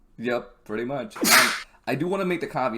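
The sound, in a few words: sneeze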